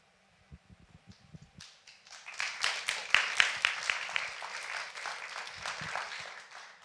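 Church congregation applauding after a Pentecost Sunday talk, scattered claps building into full, sustained applause that swells midway and holds steady, fairly close, with no talk over it.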